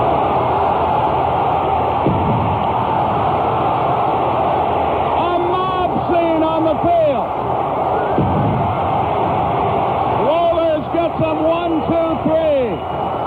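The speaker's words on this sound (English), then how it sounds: "Listen to this crowd." Stadium crowd roaring after the Atlanta Braves clinch the 1995 World Series against the Cleveland Indians, a loud, dense, sustained cheer with whistles and shouts rising in bursts, heard over a radio broadcast.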